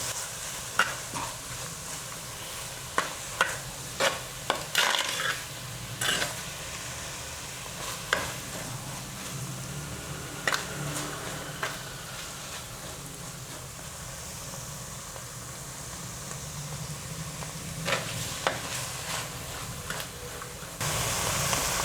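Onions fry in a pan for a Kerala-style chicken curry, giving a faint, steady sizzle broken by scattered scrapes and knocks of a spoon stirring, without talk.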